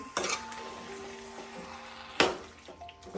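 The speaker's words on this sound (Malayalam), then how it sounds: "മസാല നല്ലപോലെ ഇതിൽ പിടിക്കുന്നിടം വരെ നല്ലതായിട്ട് ഇളക്കണം" Lemon pickle and masala stirred in a metal pan, a spoon knocking and scraping against the pan in a few sharp clanks with quieter scrapes between, heard close with no voices.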